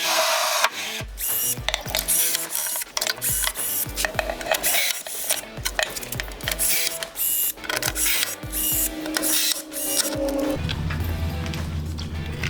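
Longer, bigger rivets being set into a fire truck plate, heard as rapid, loud mechanical clattering and ratcheting bursts with brief pauses, close up and continuous throughout.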